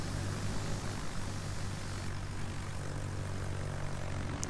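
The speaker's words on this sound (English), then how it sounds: "So we're going to go ahead and throw out planes up there." Carrier planes launching from USS Yorktown in a naval video game, a faint continuous propeller-engine drone with airy hiss, steady and distant, with no talk.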